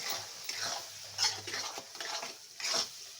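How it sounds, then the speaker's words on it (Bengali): Chili and coriander powder being stirred in a pan, with a soft scraping and a few light metallic taps of the utensil. It is quiet and close, with no talking. "ধনে গুঁড়ো 1/2 চামচ দিয়ে এটাকেও ভালো করে নেড়ে নেব"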